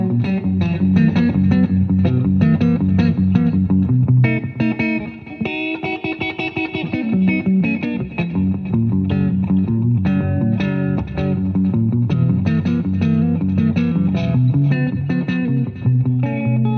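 Funky, slightly distorted electric guitar with both pickups on plays a choppy rhythmic riff with a bright, hollow tone, strummed chords and short stabs, loud and up close.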